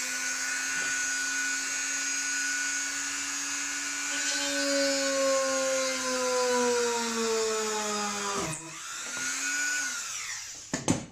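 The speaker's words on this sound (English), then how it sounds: "I am going to get the Dremel, just bear with me." A Dremel rotary tool cuts through a pushrod with a steady high-pitched whine that slowly drops in pitch under load, then stops briefly and restarts near the end, with no talking.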